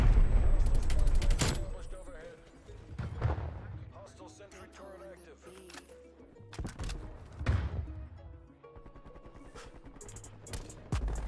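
Automated sentry gun in Call of Duty: Cold War firing in several sharp, booming bursts spread across the stretch, loud and close amid other gunfire and mechanical game noise, with someone talking over parts of it.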